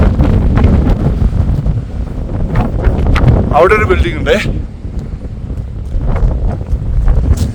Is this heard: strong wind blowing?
yes